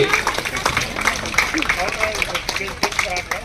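An audience at a Kamma Mahajana Sangham Vana Samaradhana community celebration claps in scattered, uneven rounds while people talk over the applause.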